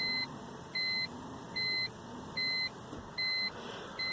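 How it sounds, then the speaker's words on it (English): A BMW E46 fuel pump priming, heard as a steady electric hum with repeated high beeps pulsing in a regular rhythm, about five evenly spaced tones over a low background drone. "Fuel pump is priming."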